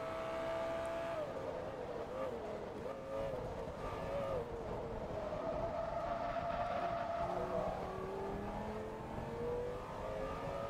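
In the Forza Motorsport 2 racing game, a Lamborghini race car engine drones steadily, holding a sustained pitch that shifts up and down with gear changes. It plays fairly quietly under faint background noise.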